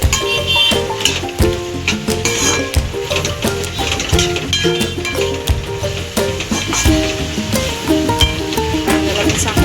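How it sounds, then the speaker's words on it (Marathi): Sliced onions frying in a pan, a steady loud sizzle with frequent clinks and scrapes of a utensil stirring against the pan throughout. "कांद्याला चांगला फ्राय करून घ्यायचा आहे"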